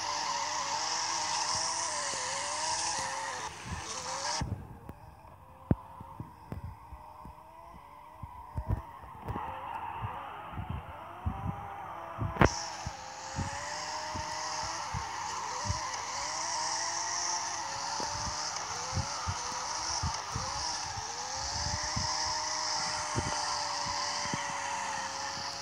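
Tire squeal and skidding from cars drifting in the CarX Drift Racing game, steady loud screeching with a brief quieter gap, sharp clicks scattered throughout.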